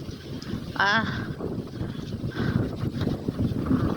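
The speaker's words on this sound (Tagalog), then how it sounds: "windy. Windy talaga siya." Gusty autumn wind buffets the microphone outdoors, a steady rushing roar with brief louder gusts, and a voice briefly speaking in the middle.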